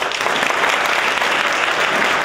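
A large convocation audience at Douglass Residential College, Rutgers, applauds the new 10th dean, a loud dense wash of clapping that holds steady before cutting off abruptly.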